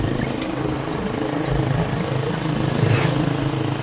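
Motorcycle engine heard while riding through cold air, a continuous moderate drone mixed with wind rush, steady and close with no talking.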